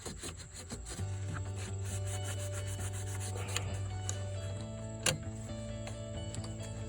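Steady close rubbing and scrubbing with Simple Green cleaner on grimy interior surfaces of a 1968 Plymouth Roadrunner, a continuous abrasive scouring with a low hum underneath and a brief sharp knock near the end.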